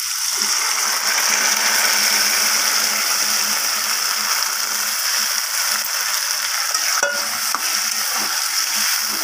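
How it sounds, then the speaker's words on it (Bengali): Boiled moong dal and sugar stirred in a pan with a metal spatula, a steady scraping and sizzling texture running continuously and fairly loud throughout, with no voices. "ডালটা দেওয়ার পর এরপর আমি সব কিছুকে ভালোভাবে একটু খুন্তির সাহায্যে নাড়িয়ে চাড়িয়ে নেব"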